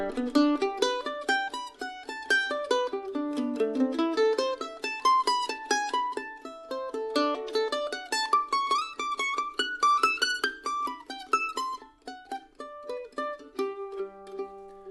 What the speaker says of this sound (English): an arpeggio exercise that I learned from master jazz mandolin player Jethro Burns